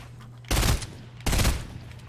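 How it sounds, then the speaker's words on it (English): Two loud gunshots from a Fortnite match, each a sharp broadband burst with a short ringing tail, spaced under a second apart over a low steady game hum. "I'm not sure if that shot registered"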